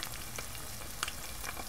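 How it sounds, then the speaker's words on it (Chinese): Chicken thigh steaks sizzle steadily in a hot pan after being flipped and pressed with a spatula, a constant close frying hiss with a few brighter crackles and spits and no talking. "把它們翻個面，繼續煎大約4分鐘"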